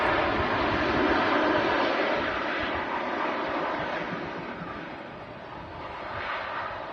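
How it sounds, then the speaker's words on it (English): A Ryanair Boeing 737-800 touches down at Manchester Airport, a steady distant roar of engines and rushing air that swells and slowly fades as it brakes on the runway. "Ryanair 737-800, touching down. A lot of braking used right at the end there, just to slow it down."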